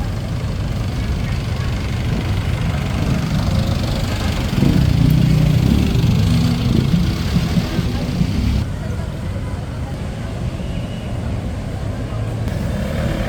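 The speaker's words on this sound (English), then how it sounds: "That's the jeepneys." Steady rumble of jeepney engines idling and revving in busy Manila street traffic, Philippines, a continuous low drone with louder swells passing close by.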